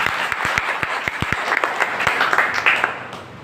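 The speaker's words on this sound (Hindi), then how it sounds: "सिस्टम के लिए एक बार जबरदस्त ताली होना चाहिए" An audience at a business plan presentation in Gurugram, Haryana breaks into applause, opening with a few sharp, distinct claps that swell into a steady, fuller round of clapping.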